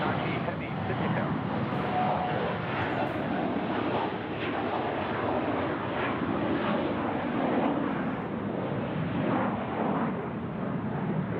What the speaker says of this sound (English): On F1 A380 heavy, Sydney Tower.